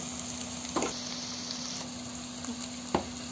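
Red chili, turmeric, coriander and chicken masala powders frying in hot oil make a soft, steady sizzle, with a few light scraping stirs of a spoon and a low background hum.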